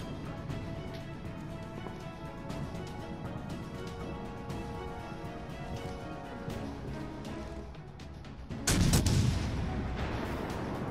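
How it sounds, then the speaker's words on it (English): In World of Warships, the premium battlecruiser Ochakov fires its naval guns at a battleship, a single loud booming salvo near the end over a low, continuous in-game rumble. "Yes, I'm firing at a battleship."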